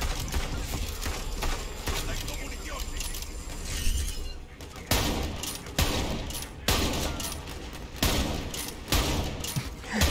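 Gunfire in the video game Borderlands 3: dense, rapid bursts of shots and impacts crackle steadily for about ten seconds, loud and continuous, with a voice talking over parts of it.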